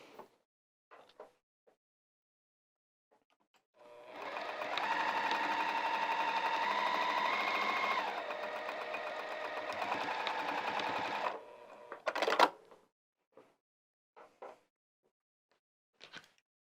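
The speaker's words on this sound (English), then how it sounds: "and then I'll sew across here." Sewing machine stitching across the piping seam of lounge pants, running steadily for about seven seconds with a slight drop in motor pitch midway, then stopping, followed by a few faint handling clicks.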